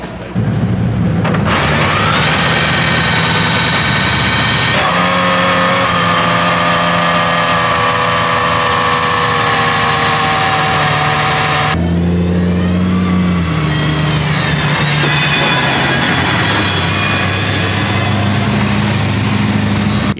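An Aston Martin Valkyrie hypercar engine drones and revs in long sustained pitches, shifting gears as it accelerates along a country road, close and continuous.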